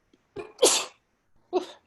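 A sharp sneeze bursts out close up during a selectboard meeting, followed a moment later by a shorter second sneeze, with silence around them.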